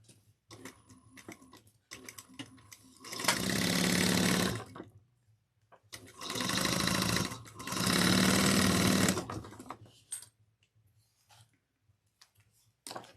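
A sewing machine runs in three loud, steady bursts of rapid stitching along a quarter-inch seam on a handheld bag, separated by quiet pauses with small clicks and handling sounds.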